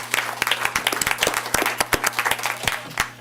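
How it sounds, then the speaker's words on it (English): School board meeting audience applauding an elementary student representative, a modest group clapping with distinct individual claps standing out, moderately loud over a steady electrical hum. "Let's give a round of applause."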